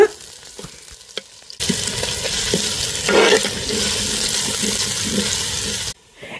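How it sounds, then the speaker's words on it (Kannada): Onions sizzle loudly in hot oil in a pan for Mangalorean-style chicken pulimunchi, a steady broadband frying hiss that starts abruptly after a quiet opening and cuts off near the end, with a few stirring scrapes. "ನೀರುಳ್ಳಿ ಲಾ ಇಕಡೆ ಫ್ರೈ ಆತಂಡ್"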